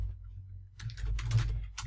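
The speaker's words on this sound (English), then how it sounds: "typing is a horrible noise on a video" Quick bursts of typing on a computer keyboard, a close run of clicky keystrokes over a low background hum, with no one speaking.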